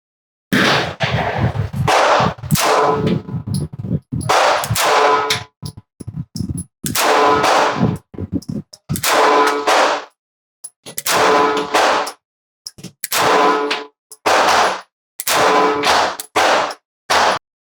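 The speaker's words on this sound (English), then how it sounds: "First shot, double action on the CZ." A CZ P-09c Nocturne 9mm pistol is fired on a range, starting with a double-action first shot. About a dozen loud, sharp cracks come in a steady, spaced rhythm, each ringing briefly before the next.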